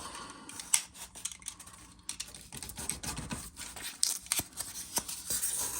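Foam being cut by hand for an HO scale model railroad embankment support, a run of short crisp snips and scratchy slices in irregular bursts, close and moderately quiet.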